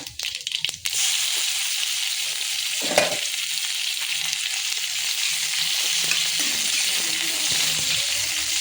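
Garlic tempering sizzles and fries in hot mustard oil for a Odia kolath dal, a loud continuous crackle with faint stirring clinks, no voices.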